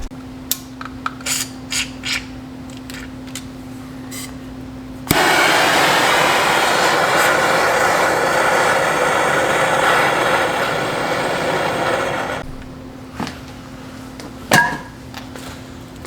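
A MAPP gas torch roars with a steady, loud hiss for about seven seconds while heating a stuck part on an Audi S4, with scattered taps and clicks before and after.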